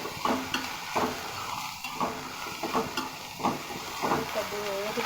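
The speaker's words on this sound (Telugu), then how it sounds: "పచ్చిమిరపకాయలు, బీరకాయ పొట్టు ఒకేసారి వేయించుకోవాలి." Green chilies and ridge gourd peel frying together in a pan, with a steady sizzle, periodic stirring scrapes and occasional clinks of a utensil against the pan throughout.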